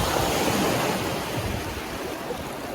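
Waves of the Dead Sea wash steadily along the shore, a broad, close hiss of surf mixed with wind buffeting the microphone, fading slightly toward the end with no one speaking.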